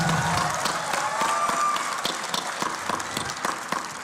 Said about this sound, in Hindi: हाँ, एक बार ताली बजा दो सब लोग यार,